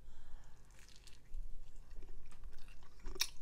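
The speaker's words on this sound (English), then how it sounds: "So munching's content for the whole night." Leftover fried fish being munched close to the mic, with soft wet chewing and biting sounds running throughout and a brief sharper crunch near the end.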